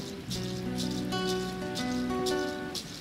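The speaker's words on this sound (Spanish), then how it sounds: "Está lloviendo muy fuerte" Heavy rain falls steadily with a soft hiss under a sustained, layered tonal music of long held notes, fairly loud and continuous.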